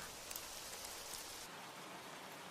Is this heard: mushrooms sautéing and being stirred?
no